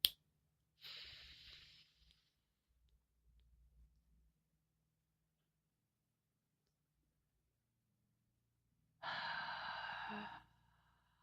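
Two slow, deliberate breaths during a conscious breathing exercise, a soft inhale early on and a longer, louder exhale later, each separated by quiet, with faint low rustling between them.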